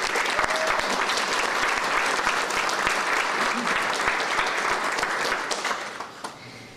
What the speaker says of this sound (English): let's give a round of applause to all of our clinicians